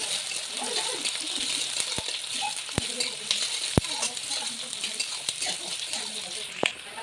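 Two chillies land in a hot kadai while an Assamese duck and potato curry is being cooked, giving a steady soft hiss of frying oil broken by sharp scattered pops and clicks.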